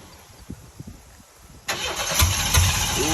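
A truck engine turns over near at hand after a stretch of quiet shuffling, catching into a loud, steady running roar that holds to the end rather than dying away.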